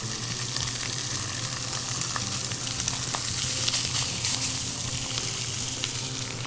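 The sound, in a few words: Italian sausage searing in a pan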